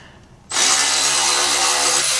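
After a brief quiet moment, a power tool abruptly starts up while repairing a BMW X5 diesel, running loudly and steadily with a harsh, whirring buzz close by.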